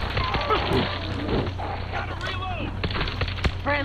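Rapid gunfire in the zombie shooter World War Z, Jerusalem level, with dense bursts of shots and thuds layered under excited talking, loud and continuous throughout.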